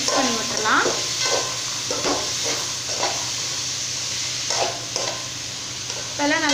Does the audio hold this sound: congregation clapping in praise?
no